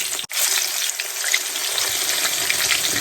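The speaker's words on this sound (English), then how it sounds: "we're going to let this fry up on this side" Nashville hot chicken fries skin side down in a skillet of hot oil, giving a loud, dense, continuous sizzle that starts abruptly after a brief cut and holds steady.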